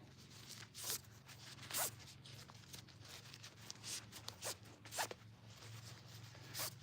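Heavy 9,000-pound-rated rope being tied into an overhand knot in a garage, a series of quick rasping, zipping pulls of rope through the hands, fairly close and quiet, with irregular louder strokes.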